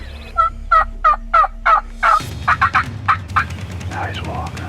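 A wild turkey gobbling at a distance outdoors, a series of rapid rattling calls in two bursts, clear and fairly loud over quiet background.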